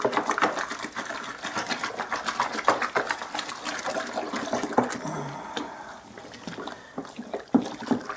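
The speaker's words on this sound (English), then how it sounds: "just dump it all in and give it a stir" Homebrew beer ingredients for a Cascade pale SMASH being dumped into water and stirred, giving a steady churning, sloshing wash of liquid with irregular knocks, close and fairly loud throughout.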